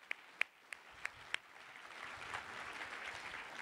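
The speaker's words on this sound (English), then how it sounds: "another round of applause, please, for all the volunteers." Applause for volunteers at a science policy conference: a few sharp, isolated claps at first, then a softer, spreading wash of clapping from a distant audience.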